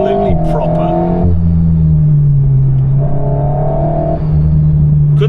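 An Alpine A110S sports car on an Italian mountain road, its engine droning close and steady, the pitch climbing and dropping as it eases off and pulls through the bends.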